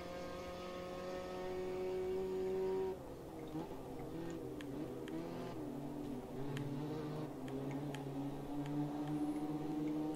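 A Ginetta race car in Automobilista 2 runs at full throttle at Donington, its engine a loud, steady whine that drops abruptly on a shift and then climbs again, with faint clicks over it.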